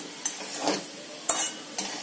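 Sugar is stirred into carrot halwa in a pan, with three sharp spoon scrapes spaced across a soft, low cooking hiss.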